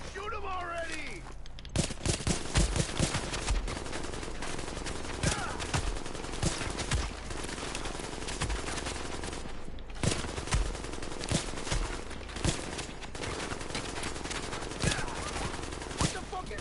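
Sustained automatic gunfire in a Tom Clancy's The Division shootout, dense overlapping bursts and sharp single shots running almost throughout, loud and close with faint voices underneath.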